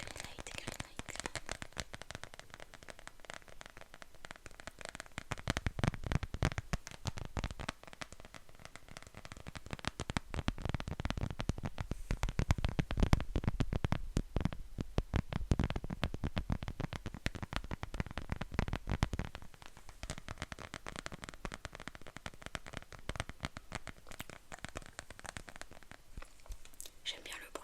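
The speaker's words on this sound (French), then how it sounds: "J'aime bien le bruit que fait la coque." A transparent plastic phone case for a CMF Phone 2 Pro is handled up close, giving soft, quiet crinkling, tapping and rustling clicks that swell and fade over nearly half a minute.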